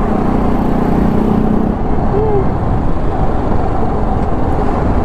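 A TVS Apache RR 310 motorcycle with hardened tires rides along a road, giving a loud, constant roar of road and tire noise with wind rush, and a brief faint tone rising over it midway.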